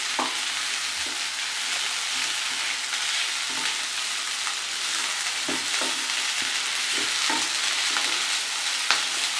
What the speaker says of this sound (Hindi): अब इन सब चीज़ों को अच्छे से मिक्स करेंगे